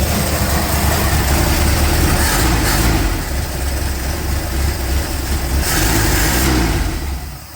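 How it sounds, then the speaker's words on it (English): A 1969 Chevrolet Chevelle barn-find engine running just after a carburetor rebuild, a loud, close, rumbling idle with throttle blips that swell and settle back across the stretch. "Go ahead and hit the throttle a little bit"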